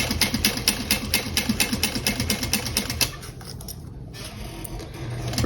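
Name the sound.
sewing machine stitching at basting length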